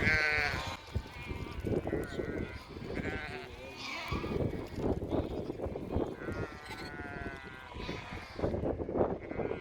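Sheep bleating repeatedly on a Scottish farm, several animals calling in overlapping harmonic cries at close to moderate distance, with faint background rustle and occasional voices.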